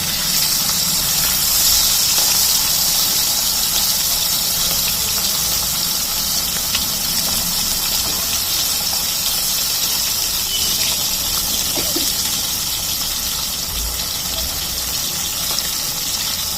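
Party snacks fry in hot oil in a pan, a steady loud sizzling hiss that runs unbroken throughout.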